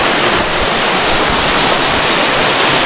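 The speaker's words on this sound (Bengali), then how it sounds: "এই দেখুন ছাঙ্গি ফলস।" Changey Falls, a waterfall in North Bengal, sends out a loud, continuous, broadband roar of rushing and crashing water with no pauses and no voices.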